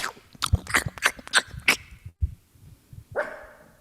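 A dog barks several times in quick, sharp bursts, fairly close and loud, with a short pause before one last bark.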